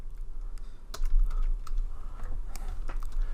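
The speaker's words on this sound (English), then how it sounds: "I'm going to type out hello world." Someone types on a computer keyboard with a quick, uneven run of close, crisp key clicks, with no voices.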